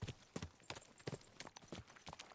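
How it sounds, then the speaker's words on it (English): Horse hooves clip-clop in a quick, uneven rhythm of sharp knocks, close by and moderately loud, with no talking over them. "Watch out for that horse."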